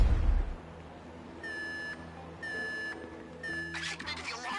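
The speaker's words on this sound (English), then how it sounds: "I think maybe the alarm's going" Repeating electronic alarm tones from a Grand Theft Auto 5 game, three evenly spaced beeping bursts with a steady pitch, sounding over a low background hum and ending in a noisy crackle.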